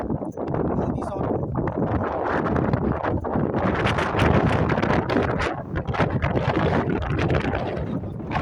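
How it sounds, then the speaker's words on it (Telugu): Wind blowing at a beach in Kuwait buffets the microphone in a steady, loud broadband roar lasting the whole clip, with rustling gusts and faint background voices mixed in. "గాలి వస్తుంది"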